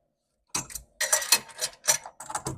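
Screws being loosened on the dual venturi of an NTI boiler: close, short bursts of metallic clicking and ratcheting separated by brief pauses.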